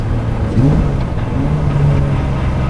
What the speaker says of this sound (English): full stainless steel exhaust system, which sounds magnificent